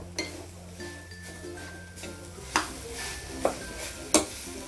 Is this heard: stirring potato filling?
yes